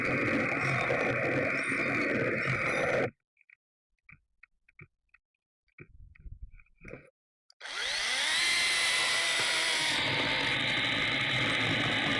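A PROCRAFT PKA 44 cordless brushless saw runs on a swapped battery. A loud whirring burst cuts off, a few clicks and rattles follow in the gap, then the motor spins up again with a rising whine.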